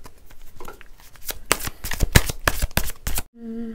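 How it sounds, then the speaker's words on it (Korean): Tarot cards being shuffled by hand in a series of quick, crisp riffling bursts and slaps, close and fairly loud, ending with a brief low tonal hum. "조금 더 상황을 다각도적으로 보기 위한 추가 카드를 한번 뽑아볼게요"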